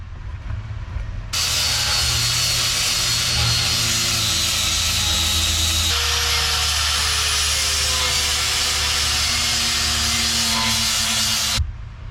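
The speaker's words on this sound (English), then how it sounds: "I'm gonna hit it with the grinder real quick" A power grinder whirs loudly and steadily for about ten seconds during a floor installation, then cuts off abruptly.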